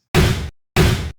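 Raw tonal synth layer built in Serum for a tearout dubstep drop, unprocessed: two loud, dense, buzzy sustained hits of about a third of a second each, separated by a short gap.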